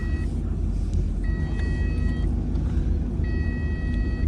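A car engine idling steadily on its first test drive after a crash, a loud continuous low rumble with a few intermittent high electronic beeps over it and no clear talk.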